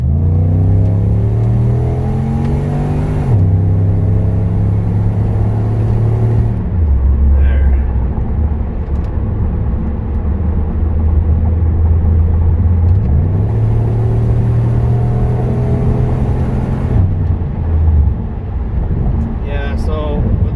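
A car engine revs and pulls through gears while driving with kids aboard, low droning tones climbing then dropping at each shift, loud and close in the cabin with road rumble throughout.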